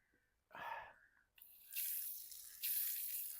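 A garden hose fills leek planting holes with water: a short gush first, then a steadier hissing spray that surges and builds in two stages, close by with no talking.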